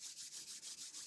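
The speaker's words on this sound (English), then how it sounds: "rub your hands together" Hands rubbing briskly together nearby, a soft, steady swishing with about eight quick back-and-forth strokes in rhythm, faint and with no talk.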